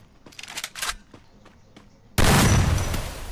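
Garena Free Fire gunfire: a few scattered sharp shots are followed by a sudden loud, sustained burst of close firing that slowly fades.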